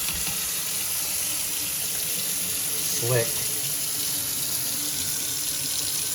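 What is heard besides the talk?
old Delta kitchen faucet running water with new aerator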